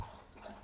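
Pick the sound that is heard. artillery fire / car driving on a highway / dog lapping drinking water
dog lapping drinking water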